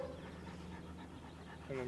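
A reactive, fearful dog pants faintly in quick, rhythmic breaths beneath nearby talk, ending with a short whine.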